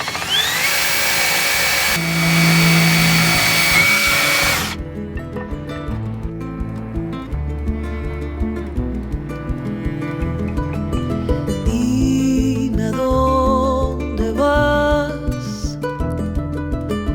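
A drill bit boring through a sailboat hull during a chainplate install, a loud sustained grinding whine with shifting pitch and rattling, labored bursts as the bit bogs and catches, alone without talk.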